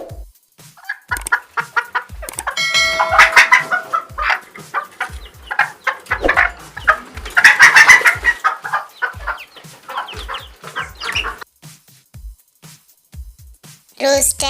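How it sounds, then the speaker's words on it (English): Domestic chicken clucking in short bursts, mixed with voices and busy sound across the clip, fairly loud and close. "Chicken."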